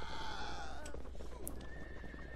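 A fast-running horse in the game Sacred, with galloping hooves and a whinny over steady ambient background, heard alone without talk.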